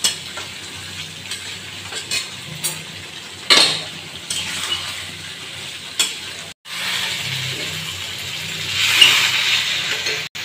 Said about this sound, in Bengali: পটলটা দিয়ে একটু নেড়ে চেড়ে তারপরে সামান্য একটু জল দিয়ে দেবো।